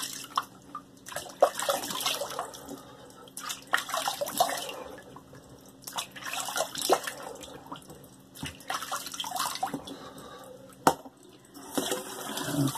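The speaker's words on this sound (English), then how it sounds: "I'm going to rinse my face." Water splashing in bursts as a face is rinsed at a sink after shaving, with running tap water, drips and irregular scooping splashes close by, separated by brief quieter gaps.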